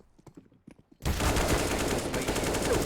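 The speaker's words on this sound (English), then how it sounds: "Window hits the initial headshot onto Robin" Gunfire in a professional Counter-Strike match, a second of scattered quieter sounds, then a sudden loud barrage of continuous shots that stays dense and close to the end.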